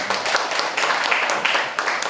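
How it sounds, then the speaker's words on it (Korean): Audience applause at the launch ceremony of a basic income movement's Gunsan branch, a dense, fairly loud wash of clapping with a few sharper claps standing out. "박수 한번 부탁드리겠습니다."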